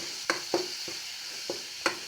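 Stirring and sautéing ingredients for rasam in a pan, with a few sharp scraping strokes of a spoon against the pan over a faint, steady sizzle.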